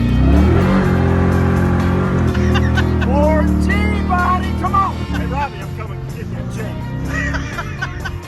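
A 1978 Chevrolet Malibu G-body street car accelerates hard with a loud rising engine note, while people laugh and chatter over it close by.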